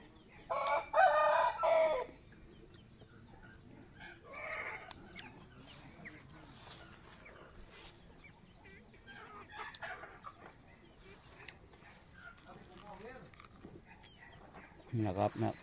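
Chickens and roosters on a farm cluck and call in short, moderately loud bursts at the start, again near the middle, and once more at the end, with quieter fowl noise and faint talk between.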